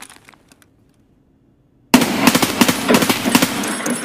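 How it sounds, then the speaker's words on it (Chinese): Gunfire in the video game Escape from Tarkov: after nearly two seconds of near silence, a loud, sudden volley of rapid automatic shots, about half a dozen sharp cracks in close succession over a ringing, noisy backdrop. "原点响起了枪声"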